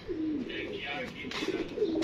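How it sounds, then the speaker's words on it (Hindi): Pigeons kept in pairs coo in low, throaty rolling calls that repeat steadily at close range, with a voice talking over them. "ये कबूतर है माशाल्लाह"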